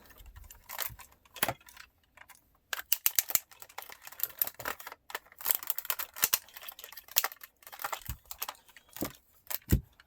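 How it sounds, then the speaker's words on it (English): Plastic ratchet joints in the hips of an Armada Unicron toy click repeatedly, with clusters of sharp, close ticks and snaps sounding alone. "Ah, those lovely heavy ratchets for the hips."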